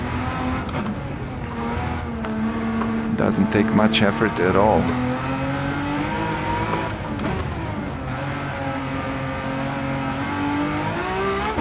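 A Ferrari Testarossa in Gran Turismo 7 drives the Nürburgring with its engine droning steadily and rising in pitch as it accelerates, a sustained tonal whine carrying under someone talking throughout.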